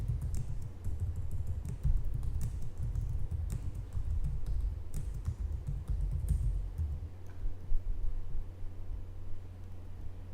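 Computer keyboard typing, near and fairly quiet: scattered quick key clicks over a low steady hum, with no voice.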